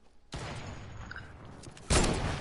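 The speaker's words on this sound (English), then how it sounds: "Hey, who's shooting at me?" Gunfire in a video game, sudden loud rattling bursts starting abruptly after a quiet moment and swelling into a heavier volley near the end.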